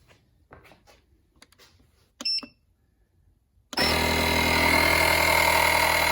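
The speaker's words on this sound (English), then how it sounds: "Let's pump up this football." A CAT portable jump starter's built-in air compressor kicks on to inflate a football, starting abruptly after some quiet handling clicks and a short beep, then droning loudly and steadily with a buzzing motor tone.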